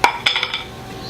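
A baking dish has its edge tapped in a kitchen, a few sharp ringing knocks, one strong hit then a quick cluster of lighter taps that fade, close and alone.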